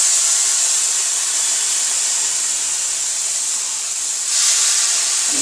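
Leftover dal cooking water poured into a hot pan while making chauli ki sabzi, a steady loud hiss and sizzle of steam filling the whole moment, swelling briefly near the end.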